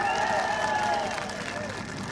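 A crowd at a political rally in Kuppam claps and cheers in a dense, continuous wash of applause while a voice carries over the noise.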